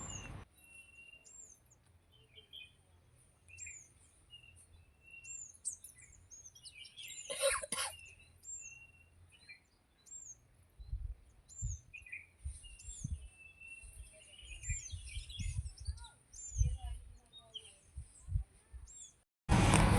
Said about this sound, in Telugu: పక్షులు అరుపులు చూడండి అసలు ఎలా వినిపిస్తున్నాయో